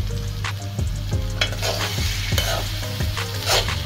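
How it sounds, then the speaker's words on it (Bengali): Finely chopped potatoes fry in a small wok, a loud close sizzle under regular, rhythmic spatula scrapes and stir strokes with faint metallic clinks, no voices. "নেড়ে দিতে হবে।"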